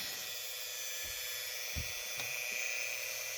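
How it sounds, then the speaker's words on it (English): A steady high-pitched whine of a Dremel rotary tool drilling through at low speed, with a few faint knocks underneath; no talking. "Then get my Dremel on low speed."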